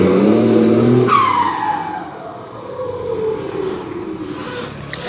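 A Volkswagen engine with a Garrett turbo and an improperly built semi-direct exhaust revs hard with a raspy note, then the pitch drops as it winds down, loud and close.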